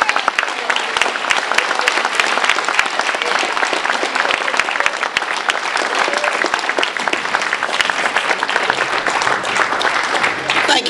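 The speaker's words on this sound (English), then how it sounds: "Please give a massive round of applause." Sustained, loud applause from a big crowd at a political gathering, a thick wash of clapping with scattered sharper claps standing out, continuing without a break for about eleven seconds.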